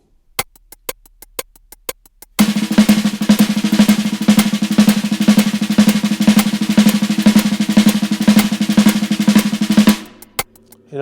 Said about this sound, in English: Paradiddle-diddle inverted, sounds like this.